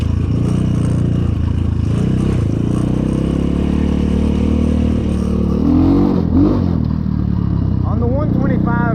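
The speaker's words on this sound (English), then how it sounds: "We're gonna do a little top speed test. We're gonna take it to the road real quick, do a little run with it." Apollo 250RX dirt bike on a road top speed run, its engine droning loud and steady, then revving up through gear changes toward the end, with a voice talking over the engine.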